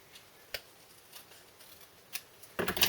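Scissors snip through a paper strap in a few sharp, close cuts spaced apart, ending in a louder burst of rustling paper.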